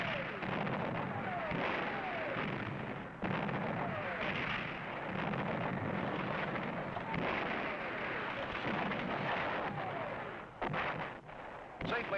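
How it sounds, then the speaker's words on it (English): Film-set explosions tear apart steel railway signal towers, a barrage of heavy blasts and rumbling fire that runs continuously and loud for the whole stretch, with a narrator talking over it. "signal towers go up in a blaze of shattered steel"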